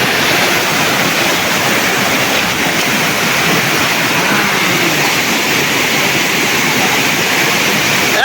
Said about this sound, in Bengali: আমার লাইফে এত সুন্দর ঝর্ণা দেখি নাই।